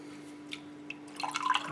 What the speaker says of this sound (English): put in some fresh water now